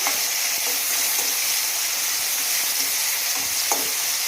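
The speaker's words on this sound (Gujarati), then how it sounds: "હવે આપણે આને સરસ આ રીતના ટામેટા જ્યાં સુધી ઓગળે ના ત્યાં સુધી એને સાંતળી લેવાના છે" Chopped tomatoes sauté over a high gas flame in a pan while cooking a green onion curry, a steady loud sizzle and frying hiss running throughout with occasional stirring scrapes.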